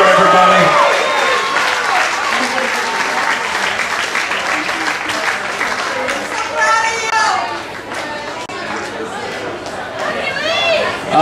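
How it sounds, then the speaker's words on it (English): Loud crowd applause and cheering for a heavyweight fighter at an American Elite Cagefighting event, filling the whole stretch with dense clapping, shouts and announcer-style voices on top. "Big round of applause for our heavyweight, David Ambler, everybody."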